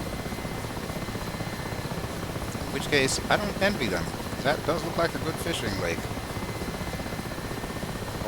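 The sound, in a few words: Mi-8 helicopter flying in video game DCS World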